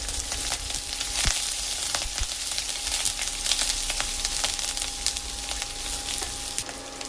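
Curry leaves, chopped green chilli, ginger and garlic frying in hot oil in a pan for a white chickpea kurma: a loud, continuous close sizzle with occasional sharp crackles and pops.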